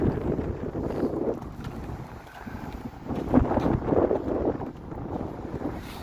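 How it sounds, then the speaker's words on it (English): Strong, freezing wind gusts buffet the microphone outdoors in a Toronto city street at -20°C, a rough low rumble swelling and easing unevenly across the stretch. "brutal wind. Brutal wind alert."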